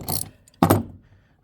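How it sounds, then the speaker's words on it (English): A cheap ratchet from a free toolkit gives two short bursts of metallic clicking, close and fairly loud, separated by a brief pause. "I've already almost broken the ratchet"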